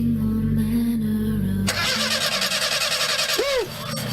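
A car engine cranks and sputters with uneven, misfiring bursts, loud and close, following a jingle-like tonal intro in a radio advertisement setting.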